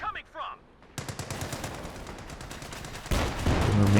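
Rifle fire in the real-time strategy game Company of Heroes 2, with rapid, crackling volleys of shots layered into sustained gunfire, loud and close, then a heavier burst near the end, following a brief voice at the start.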